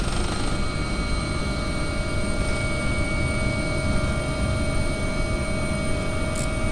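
A helicopter's engine and rotor drone inside a flight simulator game, a steady, loud, unchanging whine and hum with no talk.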